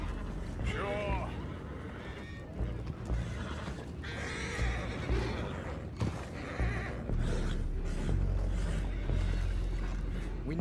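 Horses whinny and neigh in a Red Dead Redemption 2 scene aboard a creaking boat, with a clear whinny early and more neighs scattered through, all beneath loud game dialogue and steady background noise.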